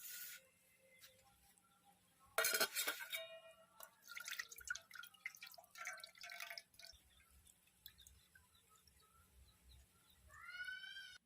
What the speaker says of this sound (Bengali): এবার এটাকে আমি একটা ছাঁকনির সাহায্যে ছেঁকে নেব।